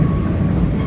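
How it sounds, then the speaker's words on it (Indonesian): Dharmawangsa Express train passing straight through Cikampek station, a loud, close, continuous rumble of rolling wheels and carriages filling the whole moment with no voices. "Dharma Wangsa Express melintas langsung di stasiun Cikampek"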